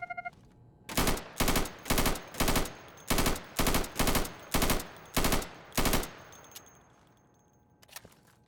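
Rapid bursts of automatic gunfire in the video game Insurgency as targets are shot down, about nine loud, evenly spaced volleys over roughly five seconds, then fading echo and a faint clink.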